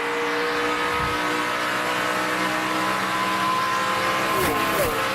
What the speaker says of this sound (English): driving the heck out of that Tundra.